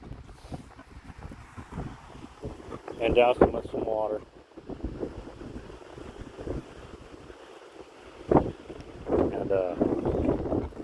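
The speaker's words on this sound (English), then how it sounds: "The wind is picking up." Wind gusts outdoors on a pig farm, buffeting the microphone with low rumbling bursts while someone talks close by.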